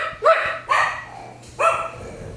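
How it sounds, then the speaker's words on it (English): Three short, sharp dog barks during a marionette puppet show, each a bright yelping burst with a pause between, close and fairly loud over a quiet background. "Did you hear a dog barking?"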